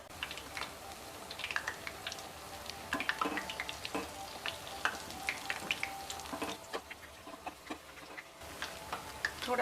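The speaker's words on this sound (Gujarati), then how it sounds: "થોડા બ્રાઉન કલરના થાય ત્યાં સુધી આપણે તળવાના છે." Ajwain leaf fritters coated in batter fry in hot oil, a soft close crackle of quick irregular pops and ticks over a low bubbling hiss, fairly quiet and without speech.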